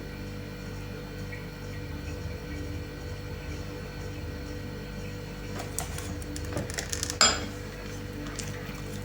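Soft clinking and scraping of a utensil against a bowl while stirring mustard and oil salad dressing, brief and light, over a quiet steady background hum.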